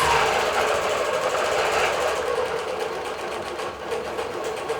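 A digital quilting machine stitches across a quilt, holding a fast, even mechanical chatter that stays close and steady throughout with no voices.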